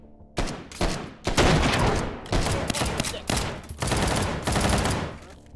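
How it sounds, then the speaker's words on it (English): Repeated bursts of gunfire from a novelty April Fool's weapon in the VR shooter H3VR, loud and close, firing in several separated volleys with brief pauses between. "it still just sounds like a regular bullet"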